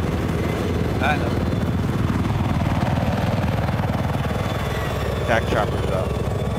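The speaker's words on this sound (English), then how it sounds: "Attack chopper's up." An attack helicopter in Battlefield 4 on the Dragon Valley map drones steadily with a rapid rotor chop. The noise fills the whole stretch, loud and continuous, while players talk briefly over it.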